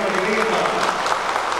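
A brief burst of audience clapping for the singer at the Canta Santa Bárbara show, continuous and fairly loud, with a voice mixed in.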